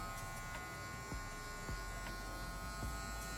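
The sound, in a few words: electric hair clipper cutting a military haircut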